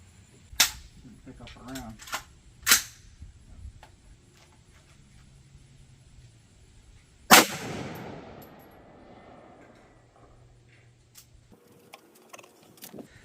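Rifle shots fired at a steel gong set 200 yards out on a mound, the first of three loud sharp cracks followed by a ringing decay, with a few quieter knocks and brief speech between.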